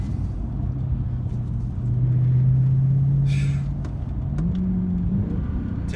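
A 2013 Mercedes C63 AMG engine rumbles steadily from inside the car while driving, a deep continuous drone that swells briefly as revs rise midway, with no voices.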